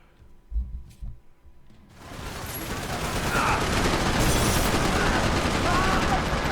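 Sustained gunfire in the shooter game Max Payne 3: after a few quiet thumps, a dense, steady roar of rapid shots builds up and holds loud to the end.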